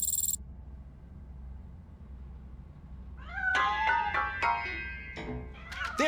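A cat meows several times inside a piano in the game RoboCop Rogue City, a quick run of rising and falling calls that grow louder over a low steady background hum, with no talking.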